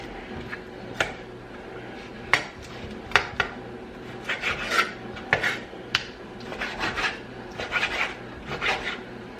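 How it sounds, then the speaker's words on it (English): Knife chopping kielbasa sausage on a cutting board, irregular sharp taps and clicks spaced unevenly, some quick clusters of cuts, close and moderately loud with no talking. "I'm gonna get this chopped up."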